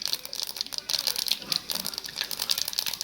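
Mustard seeds splutter and pop in hot oil in a pan, giving a dense, crackling patter of quick, close pops that continues throughout.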